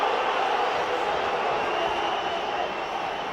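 Football stadium crowd at a Derby County match against Charlton Athletic reacts to a foul with a loud, steady roar of massed voices that fills the whole stretch.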